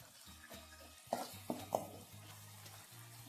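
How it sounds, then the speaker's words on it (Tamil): Chopped onion and tomato sautéing with a little salt in a pan for a Tamil kuzhambu, a quiet close sizzle broken by a few sharp stirring scrapes and clinks, with no talking. "இந்த வெங்காயம் தக்காளி வதங்குறதுக்காக"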